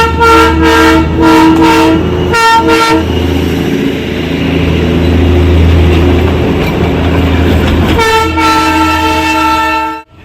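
A diesel-engine train on the Darjeeling line at Ghum station sounds long, loud horn blasts at the start and again near the end, over a steady, close engine rumble throughout, with no talking.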